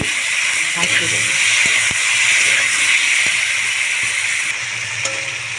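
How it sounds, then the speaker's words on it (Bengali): Onions and tomatoes fry in hot oil in a home kitchen, giving a steady, loud, close sizzling hiss with a few faint knocks from stirring. "টমেটো ও পেঁয়াজ আমি একটু ভালো করে নেড়ে নিয়ে ভাজতে দেবো।"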